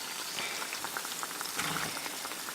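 Wheat banana fritters for Kerala pazhampori fry in hot oil, giving a close, steady bubbling crackle with scattered pops and no voices.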